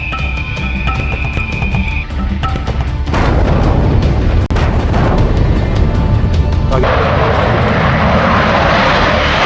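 Fighter jets such as a Rafale, J-20 and F-16 roar loudly and continuously, a broad engine rush that swells midway with a deep thud, staying dense and powerful throughout.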